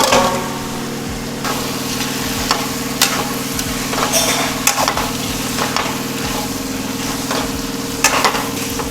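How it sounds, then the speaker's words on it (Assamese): Chicken and potatoes fry steadily in a pan, a continuous close sizzle with occasional scrapes and taps of a spatula, plus a low hum running underneath. "ভাজি আছোঁ আৰু ভাজিয়ে আছোঁ"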